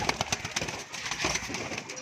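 A brief burst of cooing from black pigeons mixed with fluttery, scratchy movement noises nearby, busy and moderately loud, no speech.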